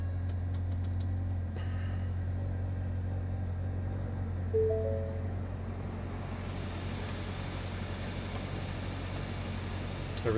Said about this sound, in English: Alright, truck started up.